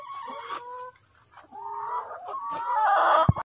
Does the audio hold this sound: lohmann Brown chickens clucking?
yes